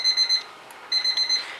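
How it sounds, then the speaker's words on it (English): A kitchen timer goes off while vegetables boil for a Valentine's roast beef dinner, beeping in two quick bursts of three bright, steady electronic tones with a brief pause between them. "that's the timer for the veggies, which have only just started to boil"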